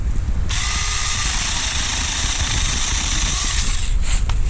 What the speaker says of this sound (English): this little Saker 20-volt chainsaw is making short out of the box